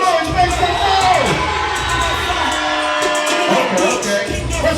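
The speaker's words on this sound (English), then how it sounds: "I need y'all to scream on this side. Make some noise, make some noise." Large live-event crowd at a concert stage screams, whoops and cheers loudly and continuously, a dense roar of many voices with shouts rising above it.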